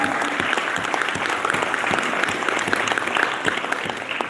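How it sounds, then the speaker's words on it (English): A live audience gives steady, dense applause before a film and cinema discussion session begins, sustained at an even level throughout. "we could all do with a bigger round of applause, please, before we start the session"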